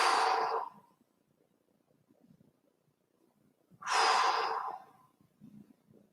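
Two slow, calm breaths during a kung fu stretching exercise, each a soft airy exhale about a second long, close and quiet, separated by near-silence with faint low rustling.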